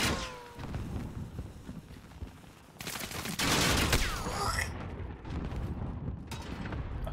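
Video game firefight with dense bursts of gunfire and bullets ricocheting, loud crackling volleys with zinging ricochets throughout.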